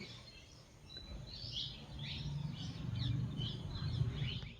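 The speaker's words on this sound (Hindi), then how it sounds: "और ये चिड़ियाओं की इतनी प्यारी आवाज़" Birds chirp outdoors in short, high, scattered tweets over a low background rumble of distant traffic or wind, faint and fairly far off, with no voices.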